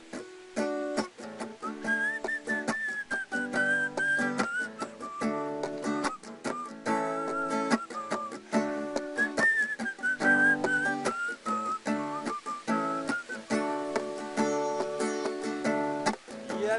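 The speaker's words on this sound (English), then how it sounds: "I'll whistle." A person whistles a bouncy tune in short melodic phrases over strummed instrumental backing, clear and close with brief gaps between phrases.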